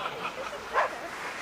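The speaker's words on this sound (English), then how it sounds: "It's a very big dog." A big dog lets out a single short bark, moderately loud against a soft background.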